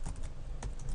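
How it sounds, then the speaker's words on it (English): Rapid keystrokes clatter on a computer keyboard, a close, steady burst of clicks with no voices. "You can probably hear my keyboard"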